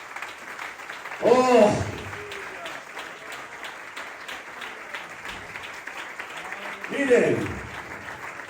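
A church congregation applauds loudly and steadily throughout, with a preacher's voice calling out over the clapping near the start and again near the end.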